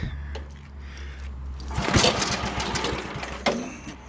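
A 1971 Toro 7/26 snowblower's small engine running close by with a steady chugging drone, rising in intensity midway as the throttle or load picks up, then holding a rough, busy rumble.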